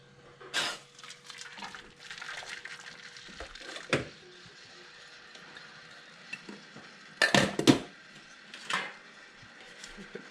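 A metal flan pan is set down into a boiling water bath for Spanish flan, making a few sharp clanks and scrapes spread apart over a quiet background hum.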